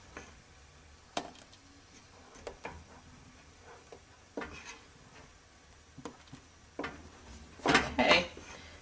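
Milk tart custard stirred in a pot, a spoon scraping and tapping against the metal in sparse, irregular knocks, close and fairly quiet, ending in a brief louder clatter.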